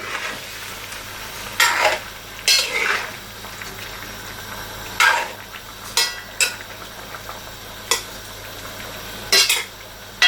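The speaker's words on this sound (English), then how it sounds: "So a quick stir." Food stirred in a cooking pot on the stove: a series of spaced utensil scrapes and clinks against the pot over a soft background sizzle, close and without speech.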